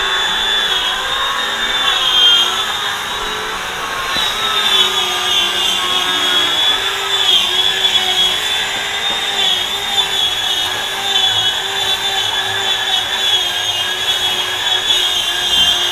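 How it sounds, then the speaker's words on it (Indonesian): Steady abrasive hiss of sandpaper or a power sander working over carved teak wood, continuous and fairly loud, with no talk. "Setelah di ukir, dirapikan, terus kemudian diamplas seperti ini."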